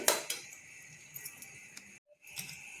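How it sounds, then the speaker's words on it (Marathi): Peanuts tipped into a pan for dry roasting over a low flame, after bananas were roasted in it, give a quick burst of light clinking and rattling, then scattered small clicks and a brief quiet gap. "ह्याच पॅनमध्ये मी शेंगदाणे सुद्धा टाकणार आहे"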